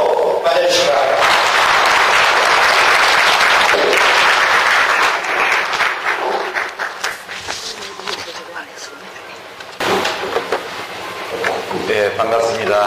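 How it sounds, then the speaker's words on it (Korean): Loud applause from a lecture audience at a disability welfare center in Gwangju, welcoming a guest speaker with dense sustained clapping that fades toward the end, with a burst of talk near the end. "우리 유시민 전 자유인연선의 대표를 박수로 맞아주시기 바랍니다"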